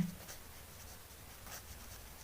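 Pen or chalk writing during a Class 10 NCERT maths geometry lesson, a faint, soft scratching stroke heard briefly and quietly against low background hum, with no talking.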